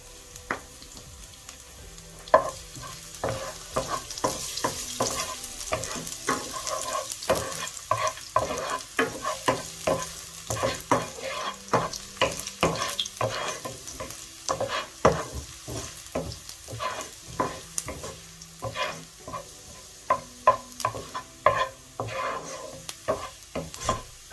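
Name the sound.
chopped garlic frying in a pan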